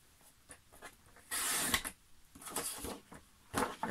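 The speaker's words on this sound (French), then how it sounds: "Là je découpe du coup sur toute la longueur une bande de 3 cm." Green decorative paper is cut lengthwise into a 3 cm strip for a chocolate box, giving soft, quiet scratchy strokes in uneven bursts with one longer rasping pass.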